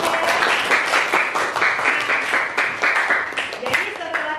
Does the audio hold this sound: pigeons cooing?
no